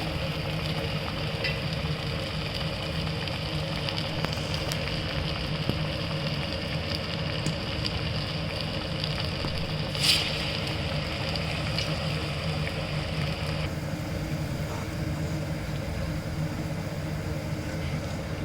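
Onion carrot vadas fry slowly in hot oil, making a steady, soft, close sizzle that continues evenly without pause or talking.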